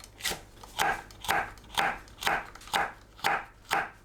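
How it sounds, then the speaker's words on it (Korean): Cheongyang green chili and red chili being sliced on a cutting board, eight evenly spaced knife chops in a steady rhythm, close and clear. "청양고추, 홍고추를 썰어줍니다."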